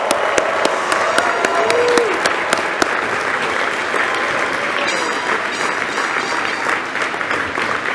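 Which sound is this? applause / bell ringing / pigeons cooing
applause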